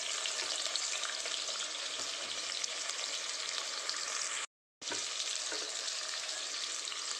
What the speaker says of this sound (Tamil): வெங்காயம் நல்லா வணங்கிருச்சு